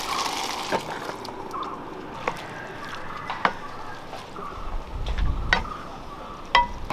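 Chickpeas with garam masala and pepper are stirred and sautéed in a pan for a curry, with soft scraping, light sizzling and occasional sharp clinks of a spoon against the pan.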